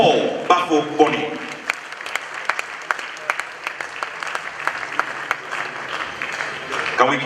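An awards-ceremony audience applauds the arrival of Ghana's Acting Chief Justice with a loose scatter of claps, some sharp and close, continuing under a voice speaking over it.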